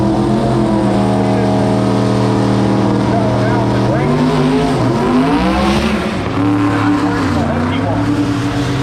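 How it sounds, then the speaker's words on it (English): A drag race car engine roars loudly and steadily as it launches off the line at Gainesville Raceway, tires shaking, its pitch climbing and dipping as it accelerates, with a voice talking over it. "See the car kind of shake the tires a little bit right off the starting line"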